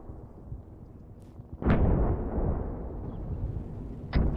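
A Hummingbird helicopter's rockets explode in Arma 3, one heavy close blast bursting out and rolling into a long rumbling decay, with a second sharp crack near the end.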